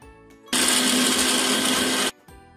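A mixer grinder grinds mushroom gravy ingredients, whirring loudly for about a second and a half, starting and stopping abruptly amid quiet kitchen background.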